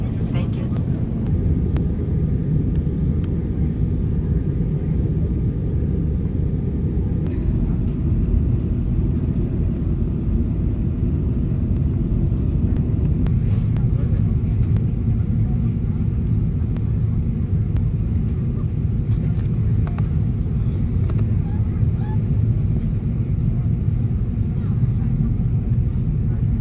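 Steady, loud cabin roar from the economy section of a LATAM Boeing 777-300ER airliner descending for landing, a continuous low rumble and whoosh with faint voices beneath.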